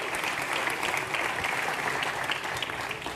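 Guests at a gala dinner for a metropolitan summit in Thessaloniki applaud as a speaker is introduced, producing a dense, even, continuous clatter of many hands, fairly close and unbroken for the whole stretch.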